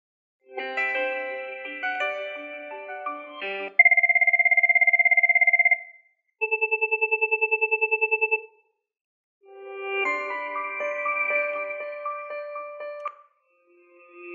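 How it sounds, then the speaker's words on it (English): Several ringtone samples from a Cisco 8841 IP phone play one after another: a chiming melody, a steady electronic tone, a rapid pulsing trill, then another melodic ring, each clear and close with short gaps. "Highlight the various ringtones and sample each of them by pressing the Play soft key."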